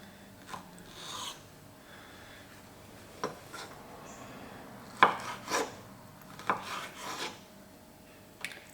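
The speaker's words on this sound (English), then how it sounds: "now that all the skin is off, I'm just going to cut it down in thin slices" A knife slicing a peeled mango into thin slices, with faint, quiet, irregular cuts and light scrapes against a cutting surface in a home kitchen.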